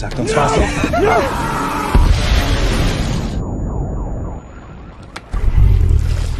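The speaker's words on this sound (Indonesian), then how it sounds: "Dan benar saja bom itu pun tiba-tiba meledak" A loud, sudden blast cuts through tense noise and voices, leaving a brief high ringing, then a second burst of rumbling debris and commotion.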